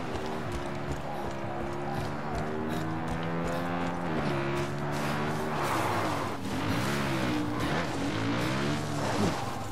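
A car engine droning steadily in the post-apocalyptic video game Far Cry New Dawn, revving up and down with shifting pitch throughout, with faint game sounds over it.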